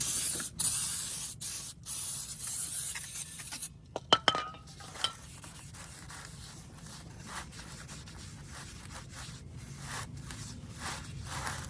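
Aerosol brake cleaner hisses loudly from a can onto rear brake parts of a Hyundai Sonata in several short bursts, then gives way to light clinks and handling noise at close range.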